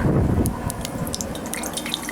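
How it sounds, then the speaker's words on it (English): Water drops flicked into hot oil in a cooking pot crackle and spit steadily, with scattered sharp pops over a continuous sizzle throughout. "as soon as I flicked that water in there, it started bouncing back at me"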